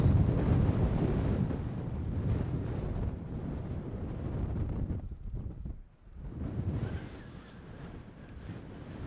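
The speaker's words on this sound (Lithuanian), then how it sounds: "Vėjas tai žiaurus." Strong spring wind over a farm field buffets the microphone in loud, continuous rumbling gusts, easing briefly before surging again; no voices.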